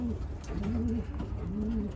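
Wheat check pigeons cooing close by, a series of soft, rolling throaty coos repeated in a gentle rhythm with brief pauses between them.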